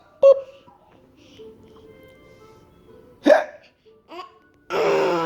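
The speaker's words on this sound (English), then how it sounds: "Good hiccup." A baby hiccups: one sharp hiccup near the start, another a few seconds later, and a weaker one after that, followed by a short burst of babbling or laughter. The sounds are close and are separated by quiet gaps.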